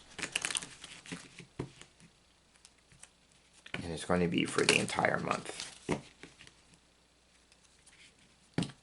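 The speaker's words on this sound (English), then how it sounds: "I'm going to stop here in terms of the shuffling." Soft papery patter of Kipper cards being shuffled, crisp rapid ticks in bursts, with a person talking over part of it.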